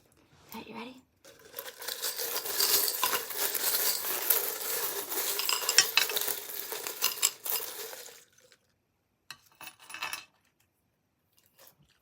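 Tarot charms being grabbed and shuffled together, giving a jumble of small clinking, jangling and crinkling sounds that is fairly loud for about eight seconds, then a few sparse clicks.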